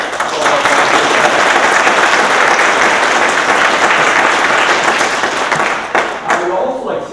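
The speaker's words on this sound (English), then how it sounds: "So a big round of applause." Loud, dense applause from a large audience at a small business entrepreneurship conference fills the space, tapering slightly near the end.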